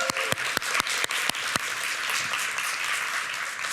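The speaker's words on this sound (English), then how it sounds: "So big round of applause" Applause from an audience at the CHASM 2024 event, a few loud close claps standing out at first before settling into steady, even clapping that runs to the end.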